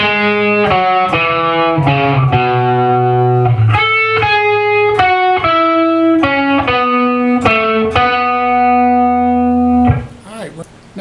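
Distorted electric guitar plays a riff, a run of loud, punchy chords and single notes in a steady rock rhythm, close and alone, ending with a short ringing tail.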